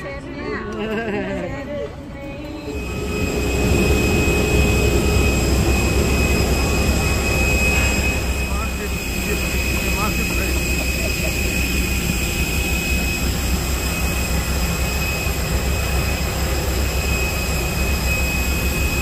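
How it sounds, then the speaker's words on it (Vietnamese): Roar of an airplane landing at Tan Son Nhat airport in Saigon, a loud sustained jet engine rush with a steady high whine that surges after the first few seconds, with faint chatter mixed in. "Sau khi bay hơn 3 tiếng đồng hồ thì máy bay cũng đáp"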